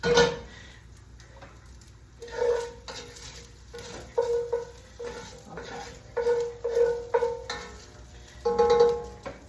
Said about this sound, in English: we're going to introduce the onion. And we're going to cook down that onion